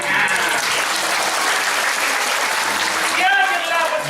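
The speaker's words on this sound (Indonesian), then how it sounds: "Tepuk tangan" An audience at a Balinese Drama Gong stage performance breaks into steady applause, a dense wash of many hands clapping close and loud throughout, with faint voices mixed in near the end.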